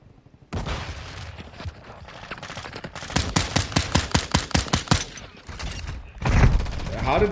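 Rapid pistol shots from a P890 in Call of Duty Modern Warfare II, about a dozen sharp cracks in quick succession, loud and close, followed by a heavier impact thump near the end.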